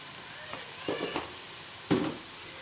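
Spices with coriander powder frying in a pan for a Telangana-style chicken curry, a soft steady sizzle broken by a few louder stirring scrapes and spatters, with no talk.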